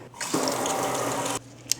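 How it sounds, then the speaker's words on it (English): Cilantro is rinsed under a running kitchen tap, giving a loud, steady splash of water for about a second before the flow stops, followed by a small clink. "I picked off some cilantro. I'm rinsing it really well in the water."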